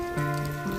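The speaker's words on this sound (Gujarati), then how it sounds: "ઉપર બહુ ગાજરો છે એટલે વરસાદ ચાલુ જ છે" Steady rain falls outside a house during a thunderstorm, a continuous soft patter with a sustained humming tone running through it and no voices.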